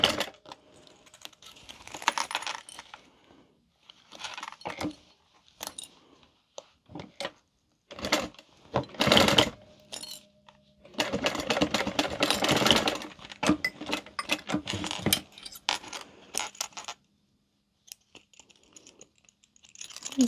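Domestic sewing machine stitching a zippered fabric wallet at a long 4.5 stitch length, running in several loud bursts of rapid needle chatter separated by short pauses and small handling clicks.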